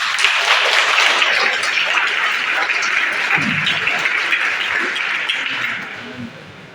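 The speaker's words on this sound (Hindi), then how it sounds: "मैं चाहूँगा जोरदार तालियों से" Loud, sustained applause from an audience at a Red Cross training event, a dense wash of clapping that carries steadily and thins slightly near the end, with a little talk underneath.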